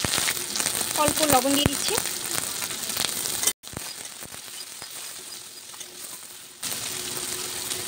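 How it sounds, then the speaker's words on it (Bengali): Green chillies and onion fry in white cooking oil for egg chicken chowmein, a steady sizzle with crackling pops and the scrape of stirring, briefly cut off midway, while a voice talks over it. "প্রথমেই আমি কাঁচা লঙ্কা আর পেঁয়াজ ভেজে নেব"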